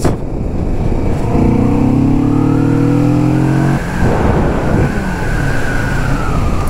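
Kawasaki Vulcan S motorcycle engine revving hard as it rides, a rising and falling drone that climbs through the gears over steady road and wind roar, loud and close with no speech.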